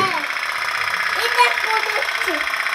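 A boat's engine runs with a steady, even mid-pitched hum that stays constant throughout, while voices talk over it.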